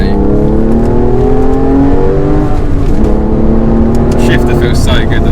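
A Speed Yellow Porsche 996 Carrera 4S engine drones loud and close, its pitch climbing and dipping with the revs, while a voice talks over it.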